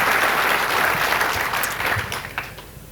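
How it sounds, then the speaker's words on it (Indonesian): A church congregation claps loudly at first, then the applause thins and fades out over a few seconds. "berikan tepuk tangan bagi Tuhan Yesus"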